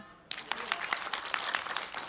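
Scattered audience applause at a community health outreach session in Kedungtuban, Blora, starting suddenly and continuing as a fairly faint, uneven patter of hand claps.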